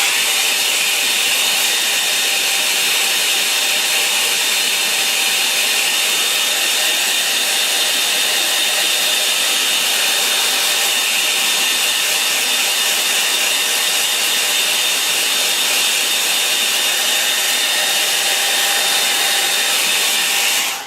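A hair dryer blows steadily on a watercolour painting of a rocky stream scene, its even broadband whoosh running loud and unbroken for about twenty seconds with no talking.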